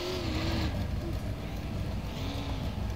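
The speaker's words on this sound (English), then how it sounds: "I'm just revving my car as loud as I can rev it in the tunnel." A car engine revs hard inside a tunnel in the video game Japan Drive World, a loud, steady roar with rising and falling pitch swells that echo off the tunnel walls.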